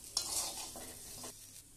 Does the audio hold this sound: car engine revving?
no